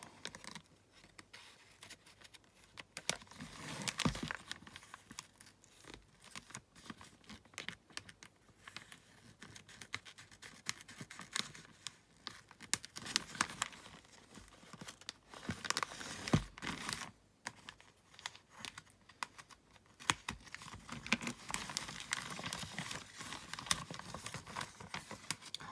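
A tightly wrapped parcel is cut and pulled open, giving a long run of close, irregular crinkling, tearing and tapping noises, quiet overall with denser bursts here and there.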